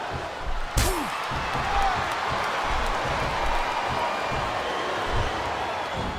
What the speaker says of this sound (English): I see a dominant superstar who's rallying this capacity crowd behind him.